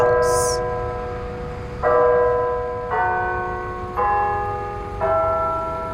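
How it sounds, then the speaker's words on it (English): Church bells rung by a pastor to alert the community, five strong rich strikes about a second apart, each ringing out with long overlapping hum over a low background rumble. "Pastor Matt Horan alerted the community by ringing the church bells."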